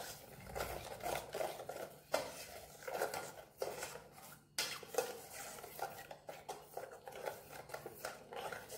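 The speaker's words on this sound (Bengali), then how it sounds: "আবার এখানে ভালো করে মিশিয়ে নেব তেলটা, তারপরে তোমার এই মশলাটা, হলুদ, নুন সব ভালো করে মিশিয়ে" Oil worked together with ground spice paste, turmeric and salt for mustard-steamed rui fish eggs, a close, steady scraping and stirring of a spoon against a metal bowl, with sharp clinks now and then.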